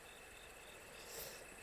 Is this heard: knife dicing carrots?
no